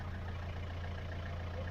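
A car engine with freshly replaced glow plugs idles after a cold start, a steady low rumble with an even, regular pulse, close and alone without any talk.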